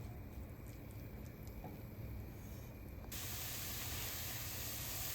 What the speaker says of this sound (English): Let that saute until the onions are nice and soft.